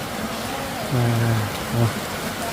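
Steady rain falls in a continuous hiss of drops, while someone speaks in two short bursts over it.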